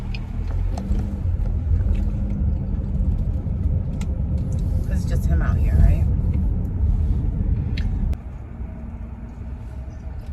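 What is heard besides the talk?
road traffic passing by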